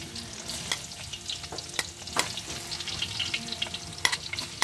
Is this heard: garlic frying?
yes